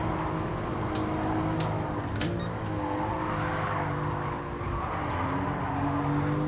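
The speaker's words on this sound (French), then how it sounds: "quand tu mets ta voiture en dérive" Race car engine in the video game Gran Turismo 7 drones steadily with tires squealing in bursts as the car drifts sideways, a continuous close mechanical roar.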